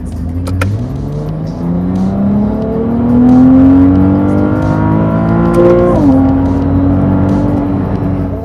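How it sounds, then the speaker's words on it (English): A Ferrari 296 GTB's 3-liter hybrid V6 engine revs loudly and steadily climbs in pitch, drops briefly as it shifts gears, then keeps pulling hard with a smooth, sustained whine. "Can you believe it that this is a 3-liter V6 motor?"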